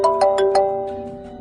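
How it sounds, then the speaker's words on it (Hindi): A mobile phone ringtone plays in a repeating pattern of bright tones, steady and moderately loud with no talk over it. "जा देख तो मेरा फोन बज रहा है।"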